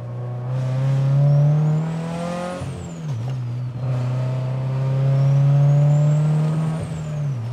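Toyota 86/Subaru BRZ with a T51R turbo revs up in two long pulls, the engine drone climbing steadily while a high, thin turbo whistle rises and sweeps down between them, loud and close from the car.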